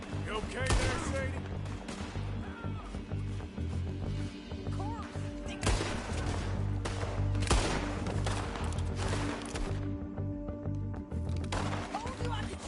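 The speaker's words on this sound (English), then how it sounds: "Told you I could shoot a gun" Gunshots in the video game Red Dead Redemption 2, several sharp loud cracks spaced irregularly over a dense bed of game sound, with voices talking throughout.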